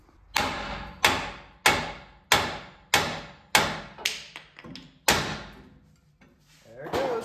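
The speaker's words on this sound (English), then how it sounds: "you can just smack this with a hammer to have this separate" A hammer repeatedly smacks a ball joint on a Gen 2.5 Mitsubishi Montero to separate the hub, about eight sharp metallic blows at a steady rhythm, close and loud, with no talk.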